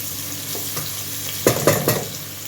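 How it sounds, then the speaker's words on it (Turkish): Oil sizzles softly and steadily in a pan, with a few brief scraping stirs as a medium onion fries. "Şöyle bir tane orta boy soğan hemen yağda kavuruyorum."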